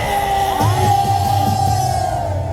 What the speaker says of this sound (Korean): 지금 여러분의 함성 소리를 듣고